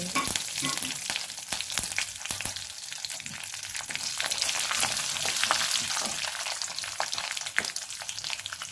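Cumin and mustard seeds temper in hot oil for a Rayalaseema-style pepper rasam, a dense, lively crackle of rapid pops over a constant sizzle, close and fairly loud throughout; no speech.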